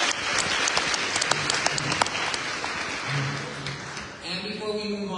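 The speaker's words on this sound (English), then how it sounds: "So I do want to give a big round of applause to the parents one last time." A graduation audience claps steadily, dense applause from many hands filling the room, with a voice speaking over it toward the end.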